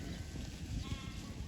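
Sheep from a large flock bleating, one or two brief wavering calls at middle distance over a steady rustling outdoor background.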